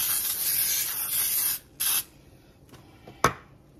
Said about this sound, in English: we're gonna spray our baking dish with